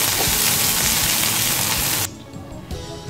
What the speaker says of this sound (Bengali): তো এখন আমি পেঁয়াজ এবং রসুনটাকে বাদামি কালার করে ভেজে নেব